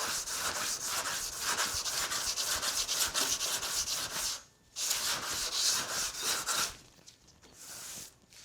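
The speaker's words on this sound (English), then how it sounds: "Just letting the sandpaper do the work here." Sandpaper worked by hand over a Carrera RS bumper during paint prep, a steady close scraping rasp in long strokes with two brief pauses, no talking.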